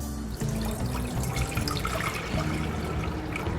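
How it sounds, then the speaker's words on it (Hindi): Water, four to five cups, pouring steadily into a cooking pan for a home cough remedy, a continuous splashing, gurgling stream heard up close with no talking. "सबसे पहले हम पैन में पानी ऐड करेंगे 4 से 5 कप"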